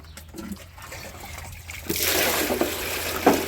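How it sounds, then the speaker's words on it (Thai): Water is poured into a basin while a bicycle inner tube is patched, first a faint trickle, then a louder steady splash and rush of water. "เอาเทน้ำใส่กระมัง"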